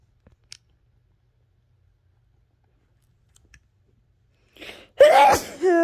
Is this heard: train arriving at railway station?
no